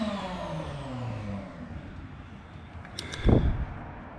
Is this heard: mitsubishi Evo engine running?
yes